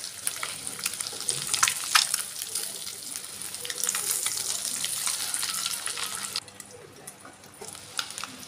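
Eggs fry in a pan for a Telugu-style onion-chilli egg dish, giving a steady hiss with stirring scrapes and faint water-like crackle that drops quieter near the end.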